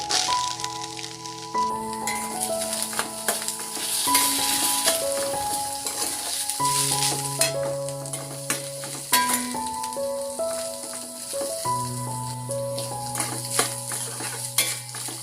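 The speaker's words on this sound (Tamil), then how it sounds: "வெங்காயம் வந்து நல்லா பொன்னிறம் ஆகுற வரைக்கும் நம்ம ஃப்ரை பண்ணணும்" Chopped shallots sizzle steadily in a hot pan for Pallipalayam chicken, with occasional stirring scrapes and clinks of a utensil, all under continuous melodic background music.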